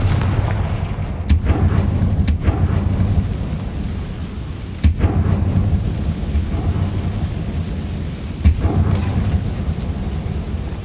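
Confringo spell explosions go off in Hogwarts Legacy, several sharp blasts spaced a few seconds apart over a steady low rumble of game ambience, loud and close.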